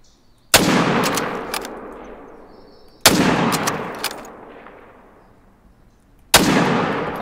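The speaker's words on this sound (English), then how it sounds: "I love the crack sound of this gun." Three sharp, loud rifle shots from a 30-06 in theHunter: Call of the Wild, each a sudden crack with a long decaying rumble, spaced a few seconds apart with no talking.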